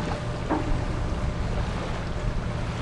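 A boat heads out into open sea with six-foot waves, its steady engine and water rumble mixed with wind buffeting the microphone and the wash of waves throughout.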